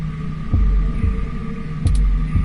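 Heartbeat sound effect from the video game 2064: Read Only Memories, deep thumping beats at a steady slow rhythm over a constant low hum, close and prominent.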